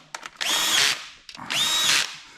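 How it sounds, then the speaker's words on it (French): A small cordless screwdriver set to low torque drives screws on a car's automatic gearbox during a fluid change, two close, loud whirring bursts, each preceded by brief ticks and ending abruptly as the clutch slips. "je prends ma petite visseuse et je mets ça sur 1 ou 2"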